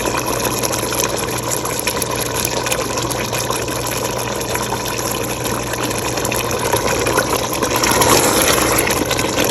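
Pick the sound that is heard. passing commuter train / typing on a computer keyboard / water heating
water heating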